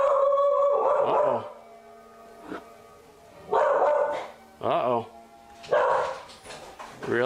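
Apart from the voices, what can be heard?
dog howling and barking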